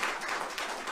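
Applause from the audience at a state senate oversight hearing, a brief dense wash of many hands clapping at steady volume.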